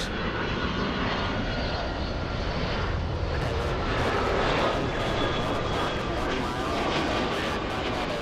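A Delta Air Lines Boeing 757 jet at LAX, heard as a steady, loud broadband engine roar with a hissing top end that holds unbroken throughout, no voices over it.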